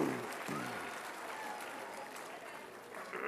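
Applause from a congregation at a rabbi's installation service, clapping for the shofar blowers: a soft, even patter of many hands, sustained and fairly distant.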